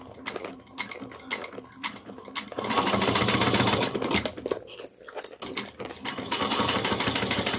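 A sewing machine back stitching the seams of a handmade bag, running in dense mechanical bursts with short pauses between runs, close and fairly loud, with no talking.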